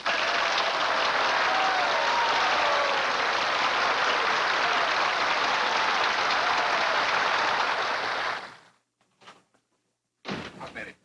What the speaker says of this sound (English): May I suggest a round of applause to usher a new Booth into the world.